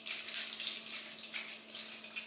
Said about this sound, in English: Then I'm gonna go in with the Avene Thermal Water.